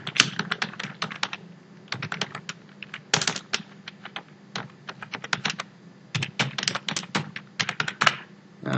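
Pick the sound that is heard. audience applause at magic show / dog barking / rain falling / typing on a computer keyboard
typing on a computer keyboard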